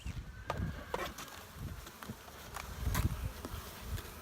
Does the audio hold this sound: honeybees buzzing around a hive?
yes